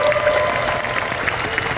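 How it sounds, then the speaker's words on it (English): Conference audience applauding the chairman, a steady wash of clapping from a crowd that holds evenly through the short stretch without breaks. "we should really give our Chairman On, a big round of applause for that"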